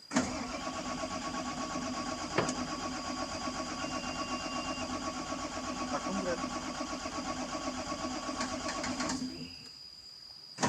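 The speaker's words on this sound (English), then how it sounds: "The heavy engine cranks, but it refuses to fire up." A Volvo EC210B 20-ton excavator's diesel engine cranks continuously for about nine seconds with a steady rhythmic starter drone, airlocked fuel lines keeping it from firing, before the cranking stops abruptly.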